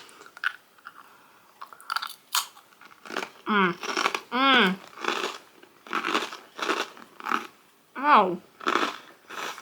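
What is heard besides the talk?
eating crunchy Japanese soy sauce rice crackers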